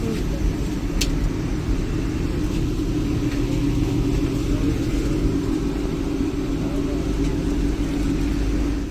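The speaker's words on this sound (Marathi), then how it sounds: "चला वंदे भारत ट्रेन मध्ये बघा आमचे मस्त प्रवास करतात" Steady low rumble inside a moving Vande Bharat train travelling toward Kashmir, a continuous loud drone of wheels and carriage noise with no break.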